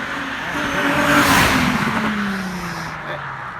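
An Infiniti G35 sedan fitted with a coupe engine after a swap runs loud and close, its engine note swelling and then easing away over a few seconds with a broad roar.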